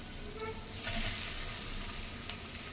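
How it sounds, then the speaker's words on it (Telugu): Garlic dropped into hot oil in a kadai gives a sizzle that swells up after a short pause and settles into a steady, close crackling hiss with no talking. "బాండీలో నూనె పెట్టుకుని వెల్లుల్లిపాయలు వేయండి"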